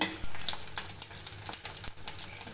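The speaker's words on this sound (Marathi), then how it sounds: "फोडणी ही छान भाजून घ्यायची" An onion tempering with ginger-garlic paste fries in a pan, giving a steady close sizzle broken by quick scraping stir strokes.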